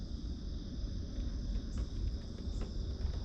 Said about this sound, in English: if you listen really closely, you will hear the peeper frogs